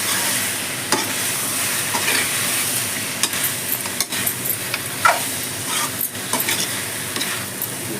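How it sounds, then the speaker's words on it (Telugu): Chicken pieces are stirred with chili masala in a hot pan for chicken fry, a continuous close sizzle with scraping strokes and occasional clinks of the spoon against the pan. "ఇప్పుడు వీటినంతా మంచిగా కలిసేలాగా కలుపుకోవాలి. చికెన్ అంతా ఈ కారం పట్టేలాగా కలుపుకోవాలి."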